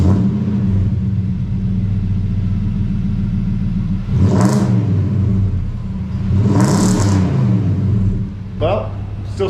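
A Nissan Patrol Y62 V8 with a newly fitted rear bar idles with a deep, steady exhaust rumble, broken by two or three short blips of revving that swell and drop back.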